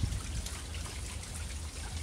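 A small waterfall outside a restaurant in Tirana, Albania splashes and trickles in a steady, continuous wash of water, close and fairly loud, with no voices.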